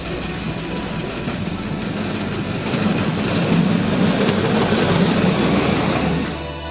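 A train rumbles past nearby with a steady deep roar and rhythmic clickety-clack from the wheels, growing slightly louder toward the middle.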